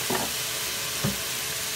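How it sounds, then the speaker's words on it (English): Garlic butter steak bites frying in a pan, with a constant loud sizzle and two brief scraping stirs of the meat close by. "you don't want to mix it too much because you want the meat to get a little crispy on the outside"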